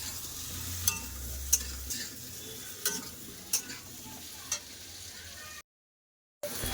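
Potato and cauliflower stir-fry with onion in a pan: a steady sizzle under repeated clinks of a spatula against the pan, ending in a short silence, with no talking.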